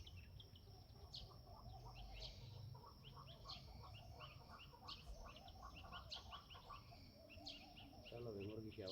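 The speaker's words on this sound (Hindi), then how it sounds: "सिर्फ चिड़ियों की आवाज़ सुननी है" Birds chirping outdoors during a quiet minute at a yoga gathering, many short, high calls overlapping in a busy, moderately distant chorus over a low background hum, with a brief buzzing insect-like trill near the end.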